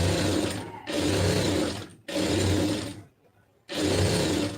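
Sewing machine stitching a lined blouse in three bursts of rapid, buzzing whir, each lasting about a second, separated by short pauses of near silence.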